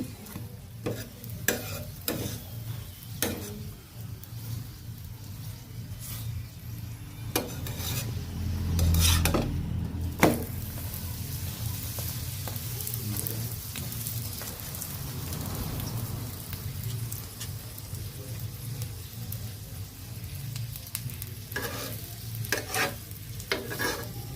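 Aloo paratha frying in oil in a pan, a steady soft sizzle with scraping and rubbing from turning and pressing it, plus occasional clinks and taps, no talking.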